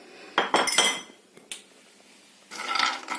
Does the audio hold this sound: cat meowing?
no